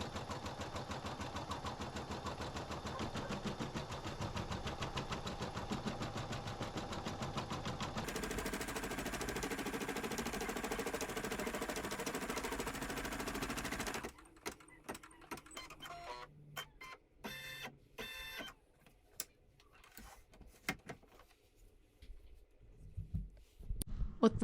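An embroidery machine sews an applique placement stitch, a steady mechanical whir with a rapid rhythmic beat that changes pitch partway through, then stops and gives way to scattered clicks and handling noises.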